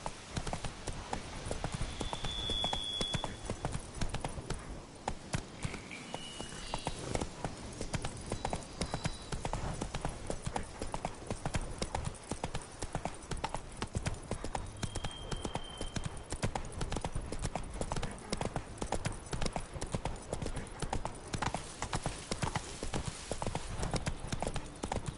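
Geralt's horse Roach gallops in The Witcher 3, a rapid, steady drumming of hooves on the ground, close and continuous, with a faint snort or whinny in the mix.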